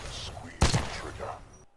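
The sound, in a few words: gunshots at targets in Titanfall 2 (video game)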